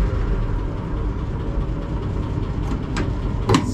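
An M8 Greyhound armored car engine turns over and runs with a steady low mechanical rumble throughout, a few sharper clanks and knocks near the end, no talk over it.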